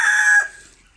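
A silkie rooster crows once, loud and close, with a short, strained call that cuts off abruptly and leaves near silence.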